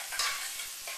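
Beef rolls brown in hot oil with a brief, close crackling sizzle, with a short stirring scrape near the start.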